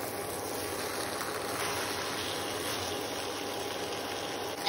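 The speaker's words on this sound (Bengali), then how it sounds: "এখন আমি গরম জলটা দিয়ে দেবো।" Hot water pours steadily into a cooking pot for a dal and fish-head muri ghonto, a close, continuous rushing splash with no voices.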